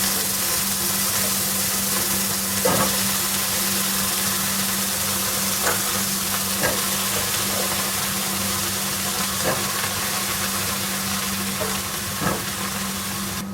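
Eggplant being stir-fried for a Kerala-style mezhukkupuratti sizzles steadily in a hot pan, a continuous broadband hiss with a low hum beneath and occasional faint clinks of stirring, no voices.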